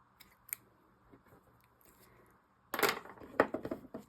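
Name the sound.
scissors trimming yarn ends of crocheted pumpkin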